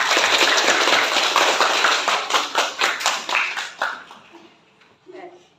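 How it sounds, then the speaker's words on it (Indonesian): A classroom group claps for students who have just presented their discussion results, a dense near round that thins into scattered, rhythmic claps and dies away, with a brief voice near the end. "berikan tepuk tangan kepada kelompok yang telah mempresentasikan hasil diskusinya"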